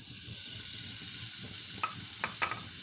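Chicken pieces fry in a little oil in a pan, a steady close sizzle and hiss throughout, with a few light clinks of a utensil stirring near the end.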